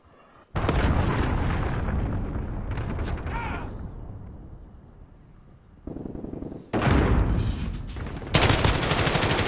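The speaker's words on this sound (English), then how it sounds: "Enemy cruise missile incoming." A cruise missile strike in Call of Duty Modern Warfare, with loud roaring explosions and bursts of gunfire that start abruptly, fade, then return in heavy blasts toward the end.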